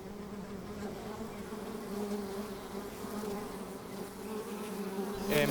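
Honeybees buzz steadily at an opened hive in summer, a continuous close drone of many insects with no talking.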